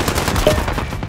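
Rapid automatic gunfire rattles in a Call of Duty: Modern Warfare 3v3 team deathmatch, a dense close burst of overlapping shots with no pauses across the short moment.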